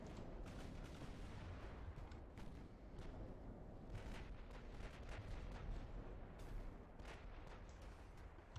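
Naval artillery from warships in the Ultimate Admiral: Dreadnoughts battle game rumbles faintly and continuously, with repeated distant gun reports merging into a low booming wash, and no voices.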